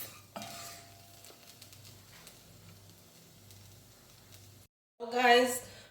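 Spiced food, seasoned with onion powder, sautés in a pot for a coconut curry lentil dish, giving a low steady sizzle with occasional stirring clinks; a brief pause comes before a louder burst of stirring and scraping near the end.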